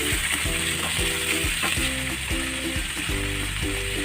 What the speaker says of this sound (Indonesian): Ini kita aduk sampai dagingnya berubah warna.